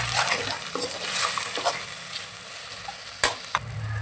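Ground paste of tomato, fennel and poppy seeds added to mutton curry, loud close sizzling with a couple of sharp spoon or pan knocks near the end.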